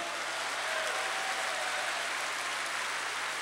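A congregation in a church claps steadily, dense and even throughout, heard from a distance with no voices over it.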